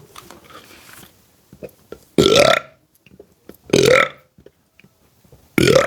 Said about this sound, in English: No more big burps?